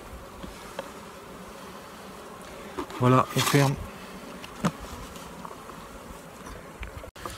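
Honeybees buzz briefly in a hive compartment during queen and nucleus colony work, a short close burst amid low background noise, with a voice speaking briefly.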